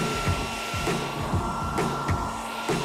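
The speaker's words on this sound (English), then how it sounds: "we heat them with a hairdryer and remove them" A hair dryer heating old stickers on an RC car blows with a loud, continuous whooshing roar, close by, with faint rhythmic thumps and scrapes beneath it and no talking.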